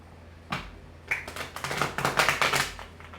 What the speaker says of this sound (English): One more shuffle, Sag. One more shuffle.